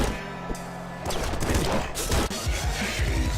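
Rapid bursts of gunfire from the top-down shooter Nuclear Throne, dense overlapping electronic shots and impacts that grow louder and busier after the first second, with no talk.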